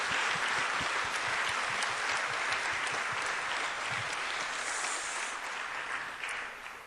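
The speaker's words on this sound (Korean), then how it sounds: "우리 비전 교구 다시 한번 박수로 축복하겠습니다" A church congregation applauds steadily as a blessing for a parish group during a Wednesday service, dense, even clapping from a full hall filling the whole stretch and tapering slightly at the end.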